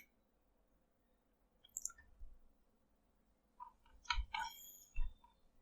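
Several crisp computer mouse clicks from pressing the scroll wheel in Siemens NX CAD software, a lone click followed by a tight cluster of rapid clicks and a final one, close and isolated.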